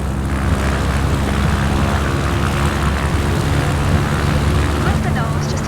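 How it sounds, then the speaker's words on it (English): Small propeller aircraft engine at full throttle in MSFS 2024, a steady dense droning roar that holds loud and constant throughout. "Now give it full throttle to get us moving."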